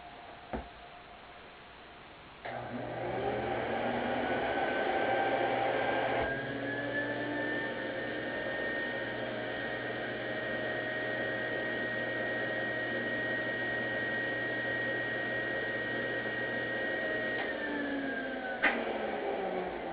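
A GE Roll-Easy vacuum cleaner switches on after a quiet start and runs steadily for most of the stretch, a close, loud drone with a whining high tone and a low hum, then shuts off near the end with a click.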